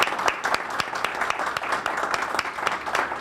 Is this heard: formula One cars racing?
no